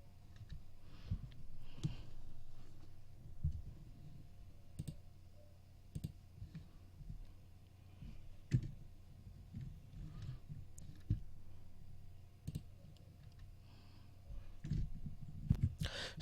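Computer mouse clicks at a desk, a scattered series of short, crisp taps spread across the stretch, faint and close, with a low steady hum beneath and no talking.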